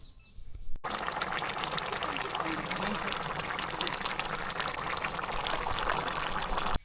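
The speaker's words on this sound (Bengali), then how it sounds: "আমরা তেল ঢেলে দিলাম" Cooking oil pours into a pot on a clay stove for chickpea biryani, a steady close liquid rush that starts abruptly and runs continuously for several seconds.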